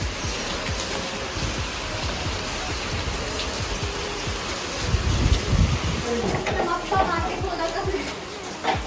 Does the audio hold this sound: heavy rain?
yes